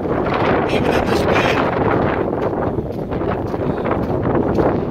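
Strong wind buffets the microphone at an outdoor airgun range, a loud, continuous roar of gusting noise with no clear breaks.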